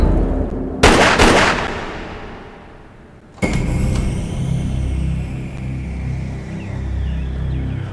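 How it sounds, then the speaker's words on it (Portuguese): A single sharp, loud gunshot on a residential street, followed by a second abrupt bang and lingering outdoor ambience. "Ouvi, foi tiro, não foi?"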